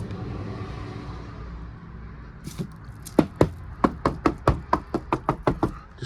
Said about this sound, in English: Just knock on that wood.